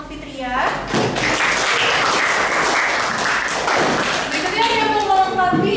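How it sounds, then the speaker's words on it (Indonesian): A classroom bursts into brisk applause for a student, many hands clapping close by for several seconds, with voices mixed in as it fades. "Beri tepuk tangan untuk Fitria."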